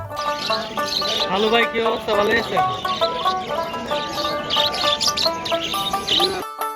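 Caged birds at the Putia Bazar bird market in Shibpur, Narsingdi chirp and tweet steadily in a busy, overlapping chorus, with people talking throughout.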